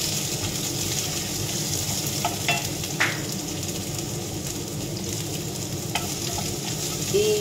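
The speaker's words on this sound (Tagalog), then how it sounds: "i-saute lang natin to. Ng bahagya, mga 2 minutes." Red onion sautés in a pan with a steady close sizzle, broken by a few light clinks and scrapes of stirring.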